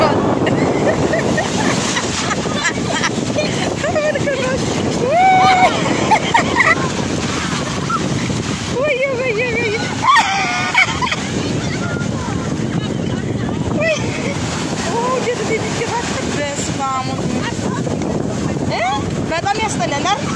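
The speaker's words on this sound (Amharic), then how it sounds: "ከእንግዲህ በኋላ ማሬ በጣም የማይታሰብ ምክንያቱም ንፋሱ ጀምሯል።" Strong wind blowing over the sea buffets the microphone in a steady roar, with waves washing beneath it and people talking almost throughout.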